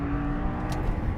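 Audi R8 V10 engine pulling hard on a racing circuit, a loud, dense mechanical roar held steady and close, with no voices over it.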